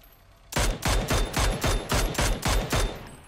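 Shots in a PUBG battle royale match ring out in a steady run of about eight loud, evenly spaced reports, each with a short echoing tail.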